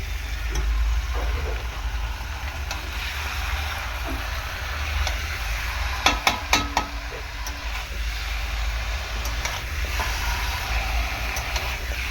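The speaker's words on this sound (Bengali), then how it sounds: "চিকেনটা দিয়ে দিচ্ছি ভালো করে কষিয়ে নেবো" Chicken stir-frying with masala in a pan gives a steady, fairly quiet sizzling hiss, with a short burst of utensil clatter partway through and no talk.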